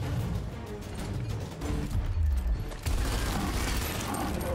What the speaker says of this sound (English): And then I guess we keep shooting Badwin.